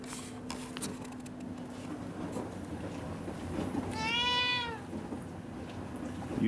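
A pet cat in a kitchen lets out one clear, tonal meow about midway through, standing above quiet household background noise.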